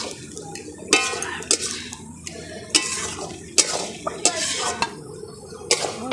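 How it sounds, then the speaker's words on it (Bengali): A fig and shrimp curry stirred in a pan, the spoon scraping and clanking in sharp, uneven strokes over a low sizzle close by. "গুঁড়ো গরম মশলা দিয়ে এবার নেড়ে চেড়ে নামিয়ে নেব।"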